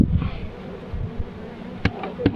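Steady low insect buzzing fills the background, with a few short sharp knocks or taps near the end.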